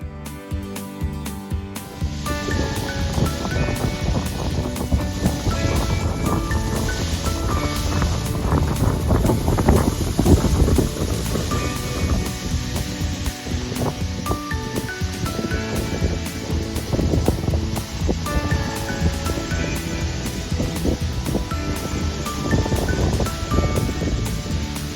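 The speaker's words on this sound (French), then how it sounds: "On a 15 nœuds de vent présentement" Steady gusting wind roars over a sailboat at about 15 knots in sheltered gulf water, with water sloshing and rigging noise throughout, loud and continuous.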